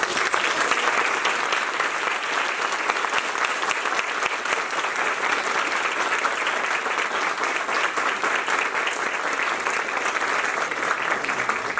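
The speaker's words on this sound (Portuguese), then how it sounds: "Uma salva de palmas para..." Audience at the Maciel Monteiro medal ceremony applauding a speaker, a steady, dense roar of many hands clapping that holds at an even level throughout.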